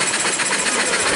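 An antique hit-and-miss engine fitted with a magneto drives ice cream churns through a reduction gear, giving a loud, close, hissing mechanical chug over a very short stretch.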